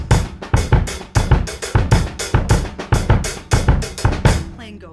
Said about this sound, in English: I'm going to fill in all of the weak beats on the snare, and I'm going to keep those accents on the hi-hat